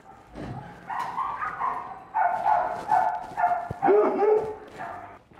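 A powerful shelter dog barks and whimpers in a string of yips and whines, close and fairly loud, with brief pauses between bursts and no clear talk over it.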